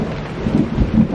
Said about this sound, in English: You guys hear that? Thunder?